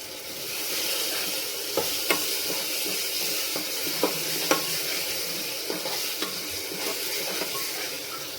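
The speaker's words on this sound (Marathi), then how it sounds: "लसूण अद्रक पेस्ट, बारीक चिरलेले कांदे व्यवस्थित मिक्स करून घ्यावे." Chopped onions fry with ginger-garlic paste in a pan for mutton curry, a constant close sizzle with a few sharp spoon clicks and scrapes as the mixture is stirred, no voices.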